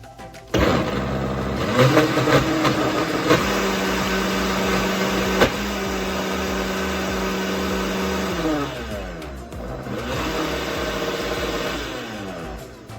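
A blender on a puree setting starts up and runs steadily at high speed for several seconds, churning paper into pulp, its motor pitch shifting as it churns, then winds down.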